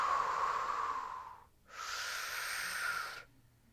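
A person holding the chair yoga Navasana pose breathes heavily: two long, hissing breaths, one inhale and one exhale, separated by a brief pause, close and clear with no talk.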